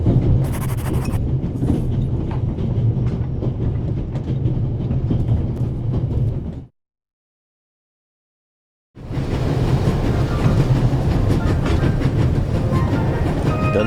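Train rumbling along at full speed inside a video game, a steady loud rolling clatter with rhythmic wheel clicks, cutting out to total silence for about two seconds before the same roar resumes.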